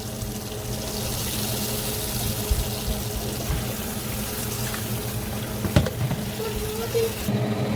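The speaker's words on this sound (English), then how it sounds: "Now I'm going to put all the mushrooms in here and I'm going to rinse off every single last one." Running tap water splashes steadily over mushrooms being rinsed in a bowl, a constant close wash of flowing water with a few small clatters and bumps near the end.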